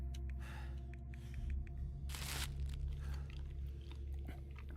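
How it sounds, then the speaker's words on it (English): Jerky packets eaten in The Long Dark survival game, heard as a burst of crunchy chewing and tearing with a strong noisy rush in the middle, set over a steady low hum and faint rustles. "Eat some of these packets of jerky."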